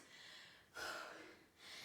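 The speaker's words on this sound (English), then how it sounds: "all you can hear is heavy breathing" Heavy, breathy panting after a lower-body HIIT workout, close to the mic, a long gasping inhale and exhale, quiet and rhythmic, with no talking.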